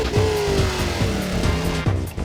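Race car in Need for Speed ProStreet, engine revving loud and close with rising and falling gear-shift pitch sweeps, tire squeal layered over the roar throughout.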